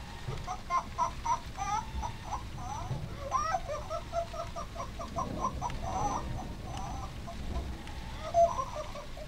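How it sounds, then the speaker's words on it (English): Chicken clucking in the video game Dreams, a series of short, choppy clucks repeating across the clip over a low background rumble, with no talking. "Oh, it's a chicken?"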